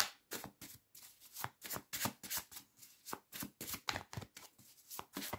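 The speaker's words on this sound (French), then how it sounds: "Je vais retirer quand même une autre carte." Tarot cards handled from the deck: rapid, crisp flicks and riffles of card stock in a steady, quick rhythm, close and quiet, with no talking.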